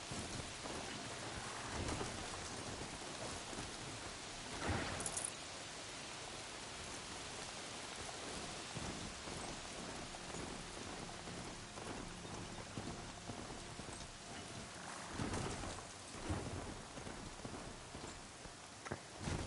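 In the video game Horizon Zero Dawn, steady rain pours down with occasional low rumbles of thunder rolling through, a continuous hiss lasting throughout.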